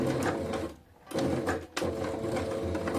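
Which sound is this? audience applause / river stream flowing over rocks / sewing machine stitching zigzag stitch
sewing machine stitching zigzag stitch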